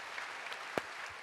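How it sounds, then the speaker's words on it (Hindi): Short burst of audience clapping at a spiritual talk on quitting addiction and bad habits, a sparse scattering of hand claps with one sharper clap standing out, fairly faint over room noise. "ताली बजाओ इनके लिए।"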